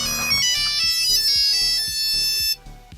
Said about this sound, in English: We'll start off with the classic Nokia tune.